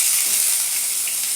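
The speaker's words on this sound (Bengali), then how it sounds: "পেঁয়াজ কুচিটা একটু ভালো করে নেড়ে চেড়ে ভাজি করে নিই" Chopped onion sizzles in hot oil with black cumin seeds, cooking for a light singi fish curry, in a steady, bright frying hiss that holds level with no talk.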